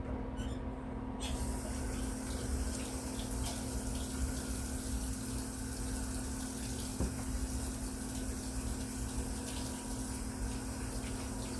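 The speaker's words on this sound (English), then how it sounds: "Let me wash my hands." Water runs steadily from a tap in a home kitchen as hands are washed beneath it, a constant close splashing hiss with a faint underlying hum.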